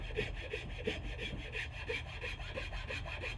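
A rasp filing the sharp edge off a wooden axe handle while re-hanging an axe, with steady rhythmic rasping strokes repeating at a quick even pace, close and alone.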